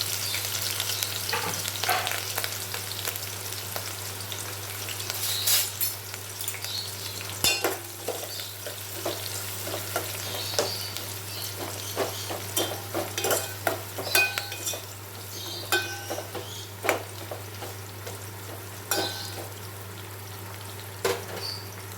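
Chopped onions and green chillies fry in a pan, giving a low continuous sizzle broken by frequent scraping and clinking of a spoon stirring against the metal, close and fairly quiet, with no talking.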